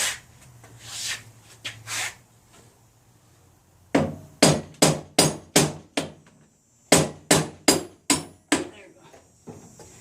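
A hammer strikes an arcade cabinet for a Street Fighter 3: Third Strike restoration, landing sharp, loud blows in two rapid bursts of about six hits each after some quieter scraping and rubbing.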